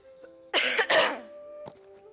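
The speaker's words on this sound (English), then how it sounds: "if you hear me coughing, just ignore that" A person coughs twice in quick succession, close and fairly loud, with a faint throat sound afterward over a quiet electronic hum, probably from a game.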